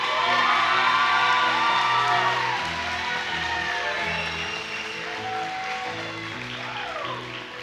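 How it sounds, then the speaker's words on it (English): Crowd at the 2022 Monroe County Fair Queen pageant in Indiana applauding and cheering with whoops, a steady, dense wash of clapping and shouts under sustained music tones, loud throughout. "One more round of applause for Bailey, please."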